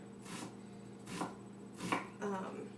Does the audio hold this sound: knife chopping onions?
yes